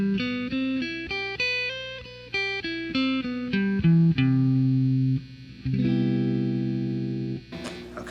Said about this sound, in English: Okay, so that would be your major 7th arpeggio.